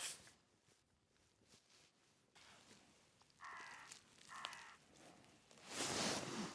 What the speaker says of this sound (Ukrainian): Ворони навіть сміються.